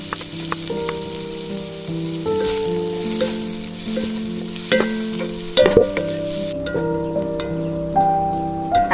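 Minced garlic and shallots fry in pork lard in a pot, giving a steady, close crackling sizzle. A few clinks of a utensil against the pot break through, and there is no talking.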